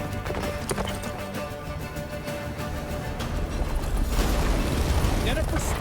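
Roach, a horse in The Witcher 3, gallops with rapid clip-clop hoofbeats, and a crashing battle rumble swells toward the end.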